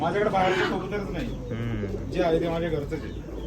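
Old pigeons, from a thirty-to-forty-year-old home-bred Gauran line, coo in soft low rolling phrases close by, with a voice talking over them.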